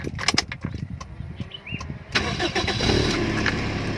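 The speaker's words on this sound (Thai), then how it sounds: "ลองสตาร์ทฟังเสียงเครื่องกันนะครับ" A Toyota Soluna car engine cranks and catches at about two seconds, then settles into a steady idle, heard close by with no talking.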